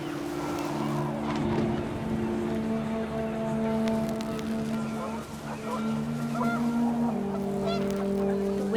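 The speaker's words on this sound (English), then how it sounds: "The wind picked up, and panicked geese appeared and quickly went." Panicked geese honking in the video game What Remains of Edith Finch, several honks scattered over a steady low hum and wind-like background.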